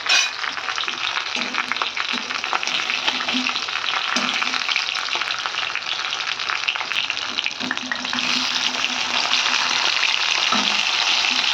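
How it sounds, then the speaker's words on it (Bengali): Fish frying in a pan, giving an even, dense close-up sizzle with occasional faint clinks of a utensil, going on steadily without any talking. "মাছ ভাজা হচ্ছে"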